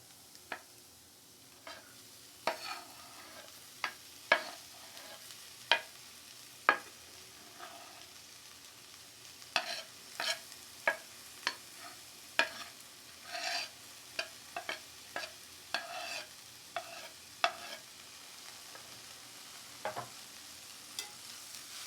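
Cut okra frying in oil in a pan for a South Indian okra palya, with a steady soft sizzle and a run of sharp spatula clicks and scrapes at irregular intervals throughout, close and alone.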